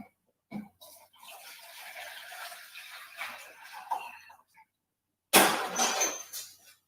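A mixer beater attachment, used in place of a wire whisk, stirs a batter in a bowl with a steady scraping, rattling swish for several seconds. A pause follows, then a louder, sharper clatter.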